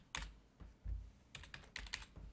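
Keystrokes on a computer keyboard as details are entered into an inspection order form: a handful of close, crisp, irregular taps in small clusters, with no voices.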